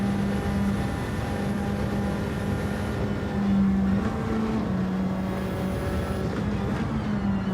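Bugatti Veyron engine at full throttle in Gran Turismo 7 racing, a steady loud drone with sustained engine tones that rise and shift slightly as the car speeds down a straight, alone throughout.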